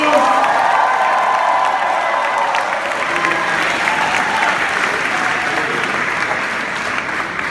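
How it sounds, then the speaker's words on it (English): Loud, sustained applause and cheering from a big fan convention audience for a Power Rangers actor, steady clapping with scattered whoops and yells that hold for several seconds. "Make some noise for David Yost!"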